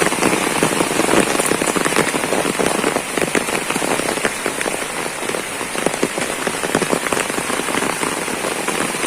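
Heavy summer downpour pours onto a garden, a dense, loud, constant hiss of rain with spattering drops striking leaves and surfaces throughout.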